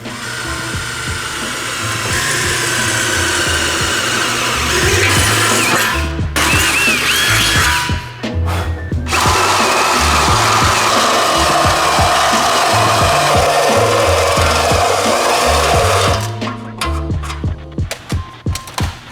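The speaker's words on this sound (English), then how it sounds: "We have to drill 4 big ass holes" A power drill grinds steadily through a car's metal frame rail, boring large holes, pausing briefly a couple of times, then trailing off into short bursts and clanks near the end.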